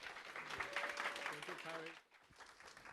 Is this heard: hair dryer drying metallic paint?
no